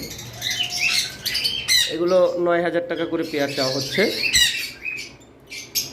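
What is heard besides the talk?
lovebirds squawking in a cage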